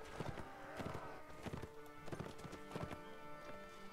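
Horse hooves clip-clop steadily through a Mount and Blade battle, with repeated close hoofbeats and a horse neighing briefly amid the steady game noise.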